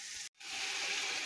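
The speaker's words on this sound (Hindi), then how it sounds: "अभी हम इसमें लोबिया को ऐड करते हैं।" Cooked black-eyed beans (lobia) drop into a pan of sizzling tomato and green chili masala, a brief gap followed by a loud, steady broadband sizzle and hiss that continues alone.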